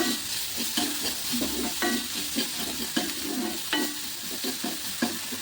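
Finely chopped onion fries in a pan on low heat for momo filling, a steady close sizzle with repeated stirring scrapes throughout and no talk.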